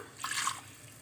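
Coconut milk and water poured into basmati rice in a cooker, a soft broadband liquid splash swelling for about half a second, then fading to a faint trickle.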